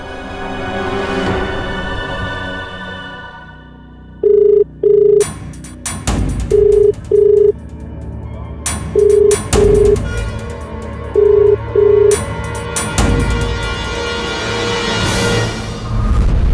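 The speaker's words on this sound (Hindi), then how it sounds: "मम्मी जी को फोन करती हूँ।" A telephone rings through the line in four evenly spaced double-beep bursts, loud and close, with background noise in between.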